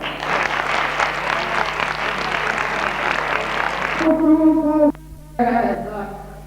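An audience at an international regueifa verse-improvisation contest in Vigo claps loudly and continuously for several seconds, then the applause cuts off and a voice speaks over a faint murmur of the crowd.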